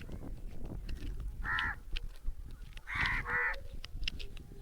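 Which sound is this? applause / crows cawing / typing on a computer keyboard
crows cawing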